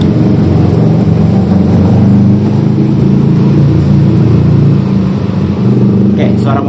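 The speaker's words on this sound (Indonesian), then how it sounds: "suara motornya berisik guys." A steady motorcycle engine drone runs close and loud throughout, with indistinct talk mixed in underneath, during a gym back workout.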